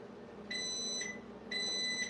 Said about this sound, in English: Here's my oven beeping because it's preheated.